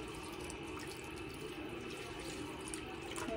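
Water pours from a small bottle into a pot of pork pieces on the stove, a steady, soft, continuous gushing that runs throughout with no voices over it.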